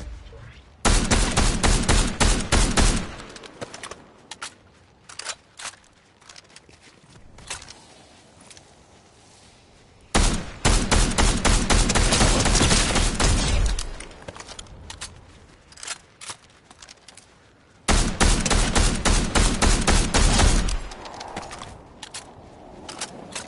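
Bursts of rapid gunfire from the video game Fortnite, in a zero-build solo match, come in three long, loud volleys separated by quieter gaps with scattered single shots.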